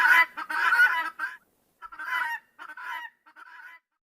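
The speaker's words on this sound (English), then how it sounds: "guinea fowl," Guinea fowl calling in several harsh, honking bursts, loud and close, with short gaps between calls and no other sound.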